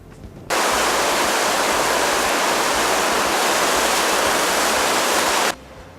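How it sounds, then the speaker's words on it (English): Hot springs and small geysers at Yellowstone National Park, boiling water running and steaming, give a steady, loud, broadband rushing hiss that starts abruptly, holds constant for about five seconds, then cuts off. "Everywhere seems to be steaming and running boiling water."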